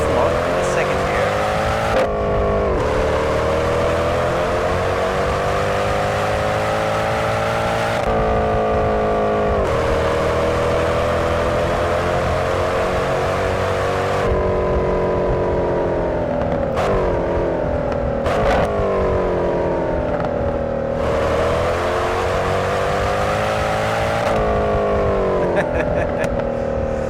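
Modded Mercedes C63 engine from outside in the Assetto Corsa racing game, loud and continuous, rising and falling through revs with abrupt cuts between gear changes or passes, alone without talk.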